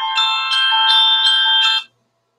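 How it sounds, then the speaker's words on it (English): A phone alarm rings with a bright electronic tone, pulsing in a steady repeating pattern for almost two seconds before stopping abruptly; the sound is clear and close, with no talking over it. "Why do I have an alarm going off on my phone?"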